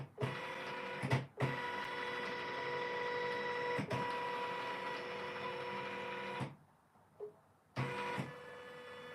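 A Janome M17 embroidery machine fast-forwarding through its design, emitting a steady whirring motor drone with high mechanical tones, broken by sharp clicks and short pauses, running alone without voices.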